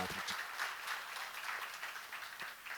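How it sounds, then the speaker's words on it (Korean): A church congregation claps together in a steady, moderately distant round of applause. The clapping is continuous and fairly soft and fills the whole moment. "박수로 맞으세요"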